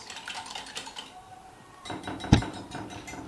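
Cracked eggs whisked with salt in a bowl: quick, light clicking and tapping of a utensil against the bowl, close up, with one sharper knock near the end and no talk.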